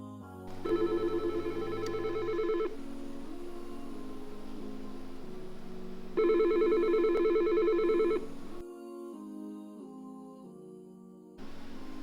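Office desk telephone keypad tones sound in two long bursts of steady dual-pitch beeping separated by quieter line tones, then shorter tone segments near the end, clear and close with no talk.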